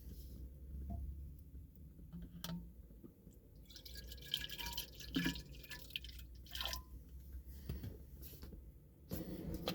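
Original 1993 Crystal Pepsi being poured into a bottle for recarbonating, heard as a steady trickle and splashing of liquid filling the bottle, close and fairly quiet, with no talking.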